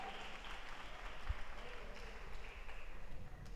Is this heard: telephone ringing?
no